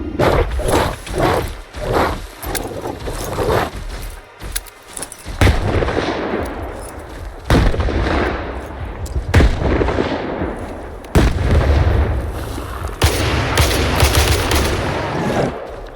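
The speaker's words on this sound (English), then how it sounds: "Just throw down a few grenades. Take a bunch of them out." Grenade explosions and gunfire in a video game: loud, close bursts of shots and blasts in quick succession, with a dense run of shots early on and heavier booming impacts every couple of seconds after.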